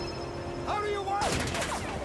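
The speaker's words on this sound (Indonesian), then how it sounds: "Pengejaran yang dilakukan Chris diwarnai baku tembak." Gunfire in a Jackie Chan film shootout: a short volley of shots bursts in loudly after a quieter stretch of tonal score and whooshes, mixed with music under a faint voice.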